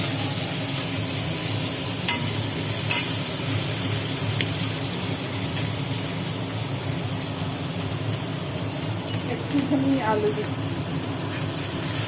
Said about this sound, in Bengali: তেলের মধ্যে পড়ে গেল কেটে রাখা পেঁয়াজ